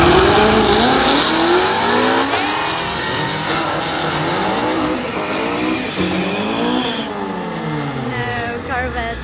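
Drag racing cars, a Corvette among them, tear down the strip, with loud engine roars rising and falling in repeated revving sweeps and a hint of tire noise, all close and constant.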